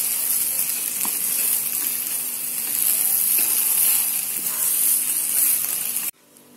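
Crispy fried potato bhujia sizzles and crackles steadily in a hot pan while being stirred, close and alone, then cuts off abruptly.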